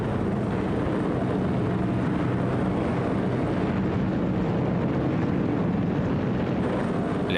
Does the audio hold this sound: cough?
no